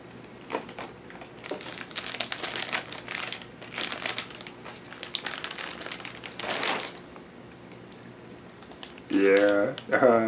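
Plastic packaging on a Threezero First Blood John Rambo sixth-scale action figure crinkles and crackles in irregular bursts through the clip, with people talking over parts of it.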